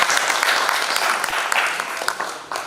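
An audience claps steadily at a Maithili cultural seminar and youth award ceremony, a dense, continuous wash of applause with a few sharper individual claps standing out, fairly close and sustained throughout.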